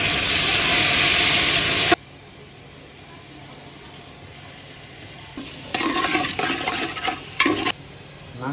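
Mung and masoor dal dropped into hot oil rendered from meat, a loud steady sizzle for about two seconds, then quieter frying with bursts of stirring and scraping in the pan close by.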